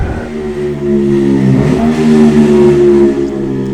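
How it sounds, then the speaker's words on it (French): A motorcycle rolls slowly past at about 20 km/h with a loud, steady engine drone that swells midway and holds, heard alone without talk. "une moto qui roule à 20 km/h, qui fait un potin phénoménal"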